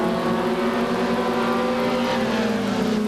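Stock race cars circling an oval track in 1985 weekly racing, a steady droning engine roar with layered tones holding constant and slightly distant, no talk.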